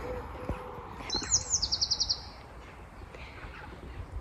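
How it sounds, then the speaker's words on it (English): A single bird sings a quick series of high, rhythmic chirps over soft outdoor background noise at an allotment meadow, fairly close and clear. "The birds are chirping"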